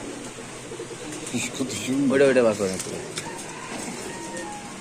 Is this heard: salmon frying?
no